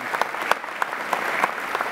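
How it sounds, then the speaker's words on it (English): Applause fills a hall at a university winter commencement ceremony, a steady wash of many hands at moderate loudness with a few sharper claps standing out, for about two seconds. "How about a round of applause for these folks?"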